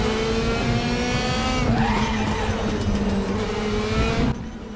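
A race car engine in the RaceRoom racing game howls through a downshift, its pitch dropping and rising with revs as the tires squeal briefly, then the engine note falls away abruptly near the end.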